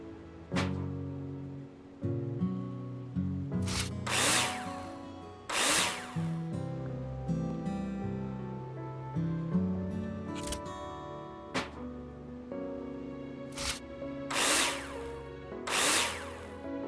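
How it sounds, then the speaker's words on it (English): A power drill screws profiles to the ceiling and floor in the Builder Simulator video game. Several short whirring bursts rise in pitch, each followed by a sharp click or clank, evenly spaced and close. "screw them in with a drill"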